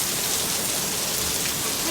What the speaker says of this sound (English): I can't see, it's raining so heavily.